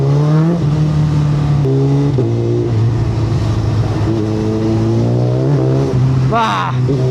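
A Suzuki Hayabusa Gen 3 sport motorcycle with a quick shifter is ridden, its engine droning loud and close with stepped pitch jumps as gears change, over steady wind rush.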